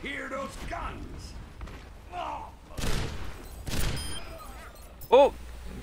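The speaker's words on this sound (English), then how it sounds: "Let's hear those guns." Gunfire in the Overwatch video game, with bursts of shots, a couple of louder blasts and mechanical clanks amid game voice lines.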